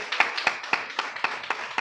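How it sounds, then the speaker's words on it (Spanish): Church congregation clapping in rhythm, about seven sharp, evenly spaced claps roughly a quarter second apart, close and fairly loud, with no talk over them. "Denle un fuerte aplauso a nuestro Señor Jesucristo."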